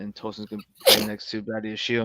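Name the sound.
sneeze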